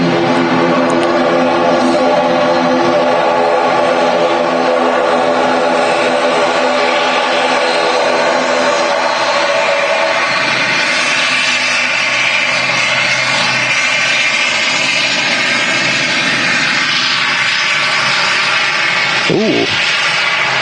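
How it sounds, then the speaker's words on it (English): Sun Express Boeing 737-800 landing at Manchester Airport, a loud sustained jet roar with layered whining engine tones that swell and shift across the run, with a brief knock near the end and no speech. "737-800 coming in. From Dalaman, Sun Express flight 504."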